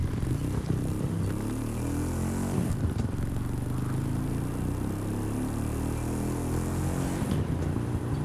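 Harley Davidson Iron 883 motorcycle riding in the racing game The Crew 2, a loud, rumbling engine with rising and falling revs and a harmonic whine climbing through gear changes.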